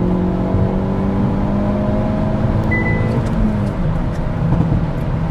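A 2022 Hyundai Elantra N sport sedan accelerates, its engine holding a loud, close, steady drone with rising tonal harmonics throughout the short run and no voices.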